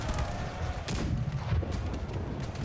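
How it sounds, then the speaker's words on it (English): Artillery volleys booming in a Napoleonic-era battle in the video game Empire Generals at Hohenfriedberg, a sharp cannon blast followed by rolling distant gunfire and battlefield rumble. "Artillery doing its work."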